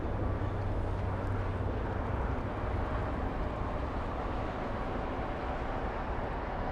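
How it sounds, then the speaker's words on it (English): A Boeing 737 taxiing at Los Angeles International Airport on taxiway Juliet, crossing runway 25 right: a steady, broad jet engine roar from a distance that holds level throughout, with no voices. "Low 737 crossing 25 right. It's on taxiway Juliet."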